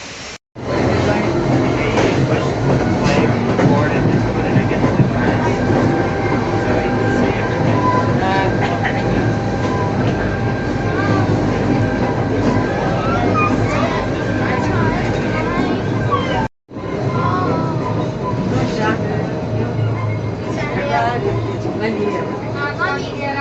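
A train rides along its rails with a steady, loud rumble and hiss from inside the carriage, continuing almost without a break while people talk over it.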